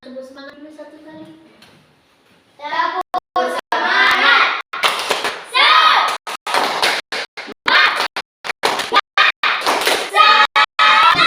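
A classroom of children performs a rhythmic clapping chant led by a teacher, bursts of loud unison shouting broken by sharp claps in a rapid, patterned sequence after a short spoken cue.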